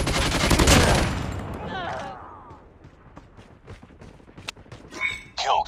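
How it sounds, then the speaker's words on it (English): Automatic sentry gun in a video game fires a loud burst of rapid shots, then fainter scattered shots and game effects, with a synthetic announcer-style voice speaking over the action. "Sentry gun ready to deploy."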